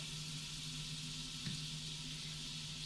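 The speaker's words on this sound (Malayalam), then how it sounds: "ഇനി ഞാൻ ഇതിലേക്ക് ആ സെയിം പാനിലേക്ക് ബട്ടർ ചേർത്ത് കൊടുക്കുകയാണ്. ബട്ടർ ഒന്ന് മെൽറ്റായി വരട്ടെ." Butter melts in a pan with a faint, even hiss, a quiet continuous sizzle broken only by a single soft tap midway; no voices.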